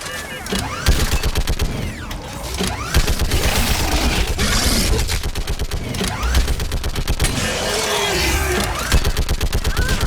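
A battle in the Mass Effect 3 video game: heavy automatic weapon fire in rhythmic bursts, loud and close, with explosive thuds and shouted voices mixed into the chaos.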